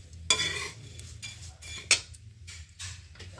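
Flattened rice (chura) is stirred and roasted in a pan, heard as faint scraping and stirring strokes, with two sharp utensil clicks against the pan over a low background hum.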